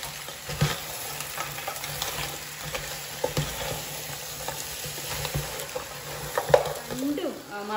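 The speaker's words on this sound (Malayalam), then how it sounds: "നമുക്ക് നമ്മുടെ ക്രാബിനെ നന്നായിട്ട് ഇളക്കി യോജിപ്പിക്കണം" Crab being stirred into masala in a pan for a Kerala crab roast, a steady sizzle broken by repeated spatula scrapes and clinks against the pan, close and fairly quiet.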